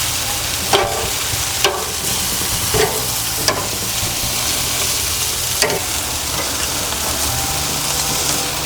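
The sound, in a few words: ribs marinated in Italian dressing sizzling on gas grill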